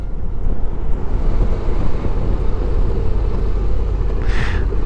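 A 2021 Honda Forza 750 scooter being ridden, a loud steady rumble of engine and road noise with heavy wind buffeting on the microphone throughout.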